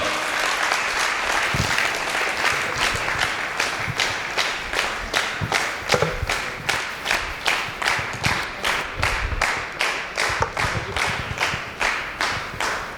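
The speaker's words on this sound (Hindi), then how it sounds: "अरे तालियां तो बजाओ।" Seminar audience applauding a guest in a hall, the clapping starting scattered and then settling into a loud, rhythmic unison beat of evenly spaced claps that holds for the whole stretch.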